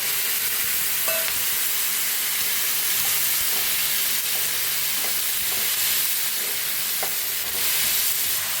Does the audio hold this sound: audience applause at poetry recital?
no